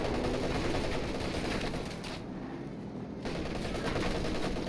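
An MG-34 machine gun fires in Company of Heroes 2, steady rattling bursts of battle noise running throughout, with a brief dip in the middle before the firing swells back.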